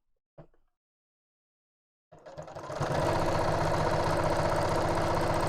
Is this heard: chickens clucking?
no